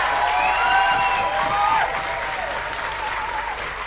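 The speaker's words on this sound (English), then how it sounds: "he deserves one more big round of applause" Audience at a book festival gives an author a loud, sustained round of applause with some cheering, steady and close throughout before easing slightly near the end.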